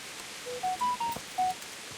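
A mobile phone sounds a short run of four or five clear electronic beeps at stepping pitches, fairly quiet and spaced about a quarter second apart, over faint background hiss.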